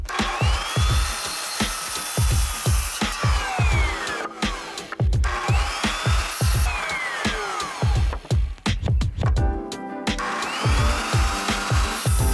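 A power saw cutting through a wooden 2x8 plank, a loud close whine with rhythmic chattering bursts as the blade bites through the wood in several successive passes.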